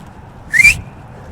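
A single short, shrill blast on a hand whistle rises slightly in pitch and lasts about a quarter second, standing clearly above a quiet low rumble.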